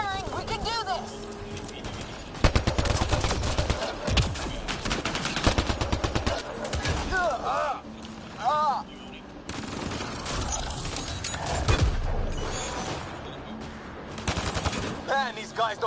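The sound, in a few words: gunfire in a video game (Andromeda)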